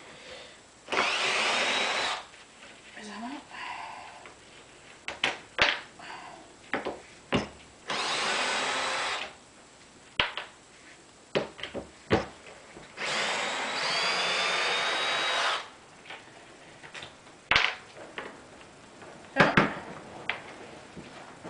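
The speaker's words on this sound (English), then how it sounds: "get your drill driver, set it in reverse, and literally just take all the screws out" A drill driver runs in reverse to back screws out of an armature, with repeated whirring bursts of a second or two, separated by clicks, knocks and handling noise close by.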